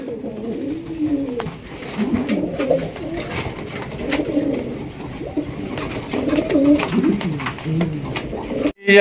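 Racer pigeons coo continuously in rolling, repeated phrases close by, with other birds calling in the background at a pigeon market.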